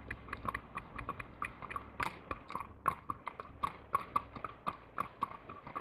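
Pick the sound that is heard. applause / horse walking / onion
horse walking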